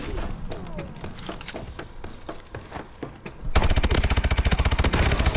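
Call of Duty Advanced Warfare multiplayer gunfire on the Solar map: scattered shots and clicks build into a loud, steady stream of rapid automatic fire.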